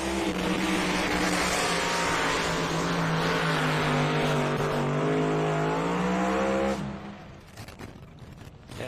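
A pulling truck's engine roars at the National Tractor Pulling Championship in Bowling Green, Kentucky, a loud sustained throbbing drone with wavering pitch that holds for several seconds, then drops away as the pull ends.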